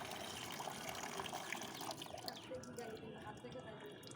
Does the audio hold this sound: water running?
yes